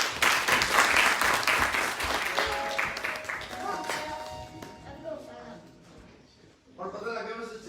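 Applause from a church congregation welcoming someone at a worship service, loud and broad at first, then fading over several seconds as a sustained musical tone rises beneath it.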